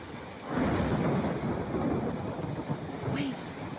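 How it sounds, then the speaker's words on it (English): Video game thunderstorm in Life Is Strange: a steady heavy rain wash with a deep rumbling thunder roll swelling in and sustained, plus a brief whooshing gust near the end. "I'm trapped in a storm?"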